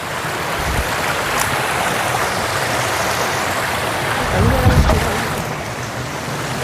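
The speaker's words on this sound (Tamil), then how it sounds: "பார்த்துக்கோங்க அருவி காட்டாத்து அருவி" A wild forest waterfall and stream in the Western Ghats roars as a loud, continuous broadband rush of falling water, close and steady, with a brief low thump partway through.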